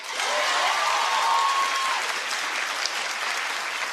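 A studio audience claps loudly and continuously, a dense wash of applause lasting about four seconds with no talk over it.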